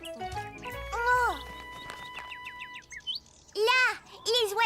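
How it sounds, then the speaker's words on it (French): Birds in a vegetable garden with a scarecrow, in a cartoon setting, give bright rising chirps and tweets in short bursts, mixed with a voice and other cartoon sounds. "Là, les oiseaux sont revenus."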